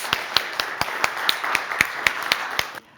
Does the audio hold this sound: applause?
yes